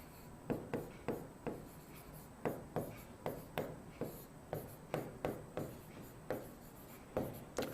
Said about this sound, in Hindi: इसमें मैं आपके लिए लिखता हूं